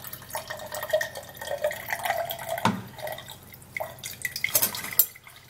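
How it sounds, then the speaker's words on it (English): Liquid drips and trickles through a kitchen sieve, small irregular splashes and patters close by, with a brief louder splash partway through and no voices. "after that, then we're gonna sieve it out"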